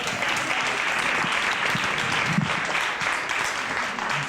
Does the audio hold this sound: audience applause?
yes